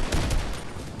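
Rapid gunfire in a video game, a dense burst of shots close and loud at the start that thins into a steady rattle of continuing fire.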